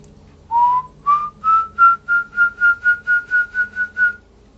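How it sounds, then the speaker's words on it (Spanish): A person whistles in a string of about twelve short rising notes that settle into a steady repeated pitch, clear and fairly near, in quiet surroundings typical of hills. "cómo se escucha aquel chiflido de esta persona"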